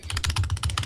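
Computer keyboard typing during a game: a quick run of about eight crisp key clicks in uneven rhythm, close and fairly quiet, with no talking.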